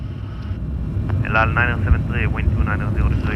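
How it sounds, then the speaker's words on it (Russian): A heavy airliner, a Boeing 787 on training flights, roars overhead with a broad, steady engine rumble, while people talk excitedly nearby. "Самолет тяжелый."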